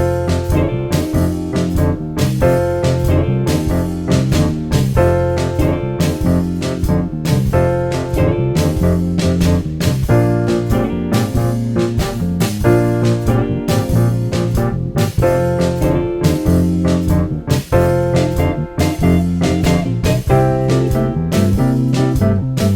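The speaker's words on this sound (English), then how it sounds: "If you want to add a little bit more to that shuffle pattern exercise, you could just hold the triads in your right hand." A blues shuffle plays on piano, with the left hand rolling a steady swung bass pattern while the right hand holds sustained triads. The playing is loud and continuous, with regular rhythmic accents throughout.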